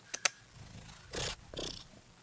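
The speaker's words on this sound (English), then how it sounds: "I heard her purring." A pet cat purrs indoors in soft rumbling bursts, a few brief breathy puffs of purring close to the listener after two sharp clicks.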